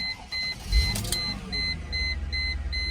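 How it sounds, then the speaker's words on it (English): A 1999 Mercedes E55 AMG W210 fresh from a coolant flush starts up. A thud and brief crank give way to a low, steady idle, close and under repeating dashboard warning chimes. "we're gonna run the engine with the new coolant in the engine, so let's give it a whirl"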